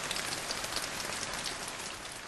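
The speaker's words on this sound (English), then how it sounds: "It's raining, violent and sudden" Heavy rain pours in a dense, even hiss, drops drumming on surfaces without pause, close and steady throughout.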